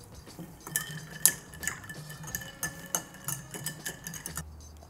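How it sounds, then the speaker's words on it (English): A spoon clinks against glass as a sorrel and rum cocktail with bitters is given a quick stir: a run of light, irregular ringing taps, close and fairly quiet, over about four seconds. "Give that a quick stir."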